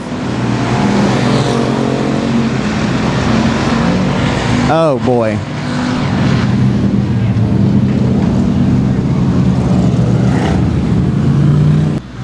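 Factory stock race cars racing at Sabine Speedway, heard as loud, continuous engine roar with cars passing by. An announcer talks over the engines, and a brief electronic chirp cuts through midway.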